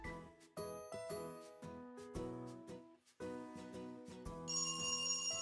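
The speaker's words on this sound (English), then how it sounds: "The ringing echoes down the hallway." A rotary telephone rings in the horror video game Dread Weight, sounding repeated bursts of metallic bell trills separated by brief pauses, clear and fairly loud, with a higher chime joining near the end.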